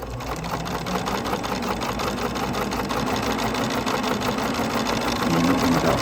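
A sewing machine runs steadily, stitching a quilt block seam with a stiletto guiding the fabric; the motor hum and rapid needle rhythm continue unbroken, close and fairly loud, with no talk.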